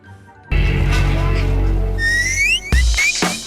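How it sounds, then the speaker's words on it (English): A Whistle Pop, a candy lollipop that doubles as a whistle, gives short shrill upward-sliding whistles over a loud, full background. "Kids loved them because they weren't just lollipops. They doubled as a whistle."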